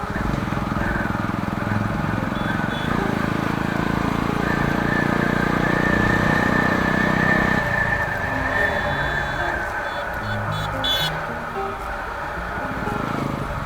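A Royal Enfield 350 motorcycle rides along a road, its engine a steady close thumping drone with shifting tone as it slows, while a rider talks over it and other traffic passes.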